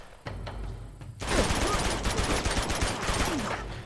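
Weapon fire in the action game Uncharted 2: Among Thieves, a few isolated shots followed by a sustained burst of rapid gunfire, loud and close, with a voice talking over it.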